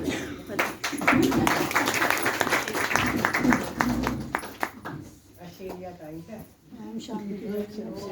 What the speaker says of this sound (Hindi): एक ताली